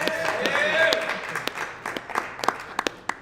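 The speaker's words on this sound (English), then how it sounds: "please give your Wildcats boys basketball team a round of applause." An audience at a high school boys basketball gathering gives the team a burst of applause that swells, then thins into scattered individual claps as the cheering fades out.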